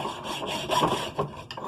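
Hacksaw rasping through tough metal on an A/C unit being scrapped, a near, steady back-and-forth grind with a couple of louder strokes and no talking.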